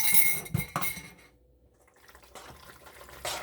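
Rigatoni being stirred with an egg in a warm pan on a switched-off stove, with clinks and scrapes of a utensil against the pan. A few louder bursts come at the start and again near the end, with a quiet pause between them.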